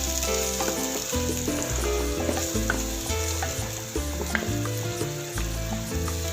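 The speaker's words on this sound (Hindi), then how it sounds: "ये मैंने 2 बड़े प्याज लिए हैं और 2-3 जवे लहसुन के लिए हैं और इसकी कटिंग करके और इनको ऐसे फ्राई किए" Two large chopped onions and a few garlic cloves frying in a pan: a steady, close, crackling sizzle with stirring, continuous throughout, with no voices.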